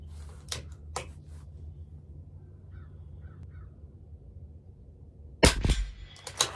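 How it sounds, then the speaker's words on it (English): A CZ457 LRP rifle fires Aguila rimfire ammunition at a 50-yard match target: sharp, fairly quiet cracks, two spaced early shots, then a quiet pause before a louder cluster of reports near the end. "we're going to shoot 5 shots"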